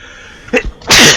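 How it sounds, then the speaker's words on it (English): A single sharp sneeze, loud and close, with a short inhaled buildup before the explosive burst. "sneeze!"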